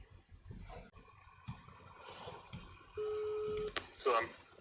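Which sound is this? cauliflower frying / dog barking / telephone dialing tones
telephone dialing tones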